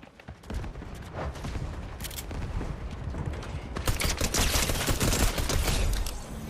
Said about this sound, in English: Just killed him with my full auto pistol, even though I spammed the button.